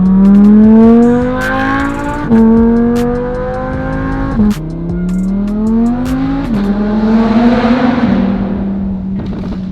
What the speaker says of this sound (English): when I hear the snap crackles, pops, and the loud exhaust